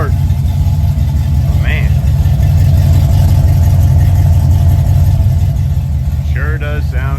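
Custom show car engine running at a steady, loud, deep idle with a low rumbling throb throughout, while a person briefly talks over it.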